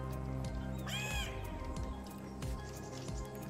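Harsh, wavering seagull cries rise over a dense bed of game music and ambience in the I Am Fish video game, around a puffer fish's forest stream level. One cry stands out clearly, with fainter calls scattered around it.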